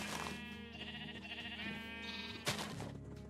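Minecraft 1.21 sheep on a sheep shearing farm bleat in a steady run of overlapping calls during breeding, fairly close, over a gentle musical backdrop, with a brief sharper sound near the end.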